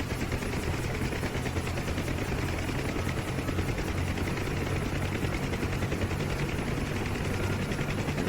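A UH-1 Huey helicopter in the DCS flight simulator, its rotor beating steadily while engine power rises, making a loud, continuous rhythmic chop that is close and even throughout, with no voices.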